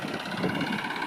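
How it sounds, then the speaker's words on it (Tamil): A tractor-mounted field-levelling machine runs with a steady, continuous engine drone at close range, holding an even idle-like hum with no voices over it. "இது வந்து வயல் மட்டம் பண்ணுற மிஷினுங்கிறதோட டிராக்டர் மிஷின்னு சொல்லலாம்"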